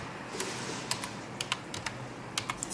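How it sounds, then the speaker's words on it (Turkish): Quick, light keystrokes on a computer keyboard as a new password is typed, irregular clusters of crisp clicks close by, fairly quiet, with no talking. "Hemen yeni bir şifre yazacağız buraya."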